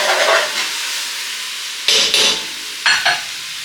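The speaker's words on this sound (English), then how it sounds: "Throwing the shrimp in. Stir it around." Shrimp tossed into a hot pan with asparagus and garlic, giving a loud close sizzle that settles to a steady frying hiss, broken by a few scraping stirs.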